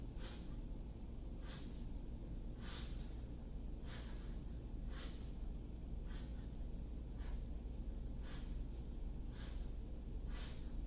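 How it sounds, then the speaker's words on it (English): Ten or so sharp sniffing breaths through the nose come in quick pairs at a steady rhythm during a breathing exercise, close and fairly quiet over a low background hum. "let's do another round of sniffs"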